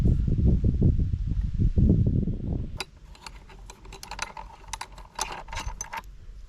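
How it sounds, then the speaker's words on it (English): A hand wrench ratchets in a quick run of small metallic clicks while tightening a bolt on a bass boat windshield, close and fairly quiet, following a stretch of heavier rustling handling noise. "they gave me a wrench too. And I think I'm going to use the wrench because I don't want to over squish it"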